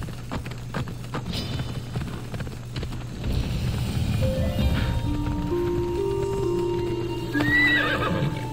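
A horse in the video game Assassin's Creed Odyssey gives a long, loud whinny over steady clip-clopping hooves, with game music tones rising toward the end.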